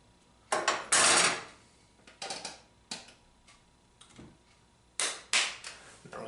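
A nail gun drives rivets into the bottom of a skull lamp base, making a series of sharp, close snapping shots at irregular intervals with short pauses between, and no one talking.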